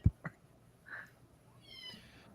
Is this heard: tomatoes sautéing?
no